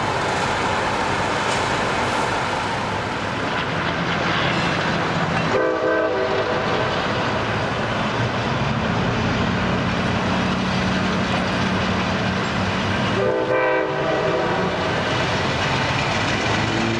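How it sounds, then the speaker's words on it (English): Capital Corridor passenger train pulling out of Sacramento Valley station, a loud steady rumble of wheels and cars with horn blasts sounding twice, near and continuous throughout. "Capital Corridor train number 535 departs the Sacramento Valley station"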